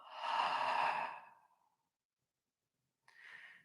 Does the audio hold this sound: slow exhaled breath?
yes